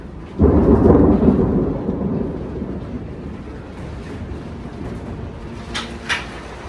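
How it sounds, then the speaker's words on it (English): A loud, close thunderclap from a lightning storm over a bay, heard while sailing the Adriatic, bursts out and rolls into a long, fading rumble, with steady rain noise and a couple of sharper cracks near the end. "Bolts cracked right over our heads, lighting up the bay like daylight for half a second at a time."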